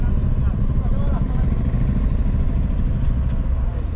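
Motorcycle engines rumble and clatter nearby, a constant loud drone of traffic filling the clip.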